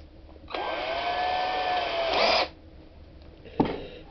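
An electric drill with a small Black & Decker bit runs steadily for about two seconds on aluminum framing for a solar panel, then stops, followed by a brief clunk. No talking.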